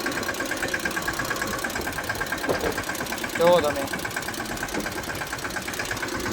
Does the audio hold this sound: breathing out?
no